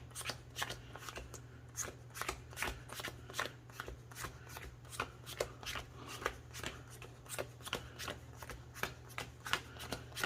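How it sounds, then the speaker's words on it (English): A trading card deck is power shuffled rapidly and repeatedly, a quick run of crisp riffling snaps close by over a low steady hum. "I could power shuffle actually."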